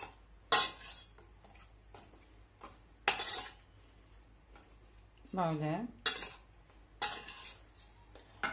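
A spoon stirs biscuits soaking in a bowl for a baby's breakfast, giving a few separate clinks and scrapes against the dish with pauses between them, close up, while someone speaks a single word.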